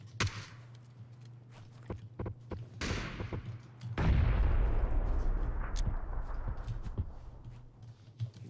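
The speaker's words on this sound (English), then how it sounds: "Nade out on him." A grenade goes off in PUBG on the winter map, a deep booming blast with a long decaying rumble, surrounded by sharp scattered gunshots before and after.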